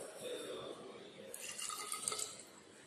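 Water runs and splashes into a measuring cylinder while about 23 ml is measured for a paediatric paracetamol syrup, a brief close trickle that brightens and spatters toward the end.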